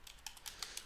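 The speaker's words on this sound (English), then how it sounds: "Let me type it here and copy it." Keys on a computer keyboard clack in a short, quick burst of about five taps at a close, moderate level while an email address is typed.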